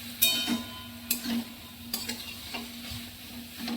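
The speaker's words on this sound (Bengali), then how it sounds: "একটু চিনি দিয়ে দিলাম, দিয়ে এটা ভালো করে আমি মিশিয়ে নেব" Leafy greens fry in a pan while sugar is stirred in, with a steady close sizzle and several sharp spatula scrapes against the pan.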